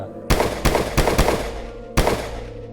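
Gunfire sound effect in a Marathi horror podcast telling of a fight with strange creatures on a haunted island: a rapid burst of four loud, echoing shots, then one more after a short pause, with no talk.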